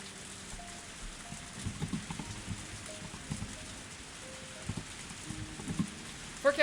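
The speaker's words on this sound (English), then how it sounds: "I didn't think it would rain so hard" Heavy rain pours steadily at a moderate distance in the Higurashi video game, with scattered louder droplet spatters over a constant hiss and no voices.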